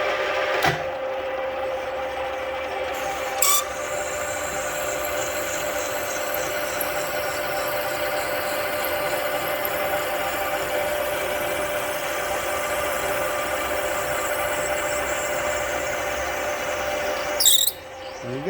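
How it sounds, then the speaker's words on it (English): Reamer steadily cutting a hole in a Mopar 360 cylinder head, a continuous close tonal whir with a constant pitch, broken by brief clicks near the start and the end. "for new people watching, this is our reamer"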